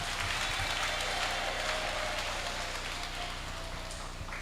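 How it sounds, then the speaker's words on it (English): A seminar audience applauds at the end of a talk, with dense, continuous clapping that holds steady and then begins to thin out near the end. "Please once again give big round of applause for Mr."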